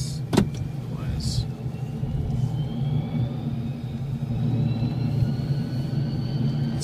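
A NASA ER-2 jet aircraft on a runway before takeoff gives a steady engine roar with a rising whine, moderately loud and continuous, with a brief sharp click near the start.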